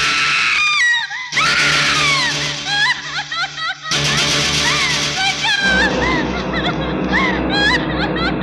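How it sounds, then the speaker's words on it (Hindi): A woman screams repeatedly in shrill, piercing bursts inside a rehearsal hall, loud and close, mixed with other frantic cries and dramatic film sound. "अचानक तभी मुझे किसी की चीख सुनाई दी"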